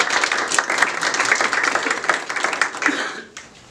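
An audience at a business convention talk applauds steadily with dense clapping for several seconds, then trails off near the end.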